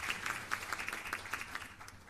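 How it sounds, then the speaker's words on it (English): Applause from a morning conference audience for the government and people of Jamaica at a Caribbean fisheries crime event, a moderate, fairly even round of clapping with a few louder claps spread through it. "I want to give the government and people of Jamaica a special round of applause this morning"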